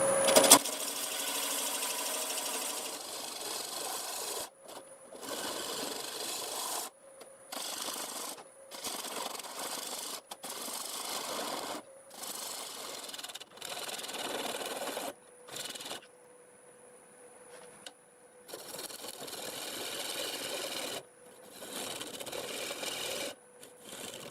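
A wood lathe spins a sequoia heartwood bowl at about 750 RPM while a tool removes the tenon. A steady motor whine sits under repeated rasping cuts that start and stop, with short quieter gaps between passes.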